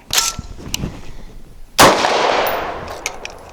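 Translucent HK rifle magazine seated into a Dark Storm Industries rifle with a sharp metallic clack, then a second louder clatter as it is released and drops free, trailing into a fading rattle.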